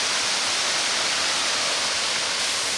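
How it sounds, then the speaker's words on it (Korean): A powerful waterfall plunging from about 30 m height in a Palau jungle produces a dense, steady roaring hiss, loud and unbroken from start to end. "30m 높이에서 떨어지는 물의 힘은 생각보다 강력했다"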